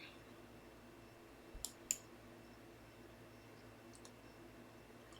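Two quick, sharp mouse clicks on a computer, pressing a Payback button in a MakerDAO dapp through MyEtherWallet, each one faint and close over a low steady hiss, with no talking.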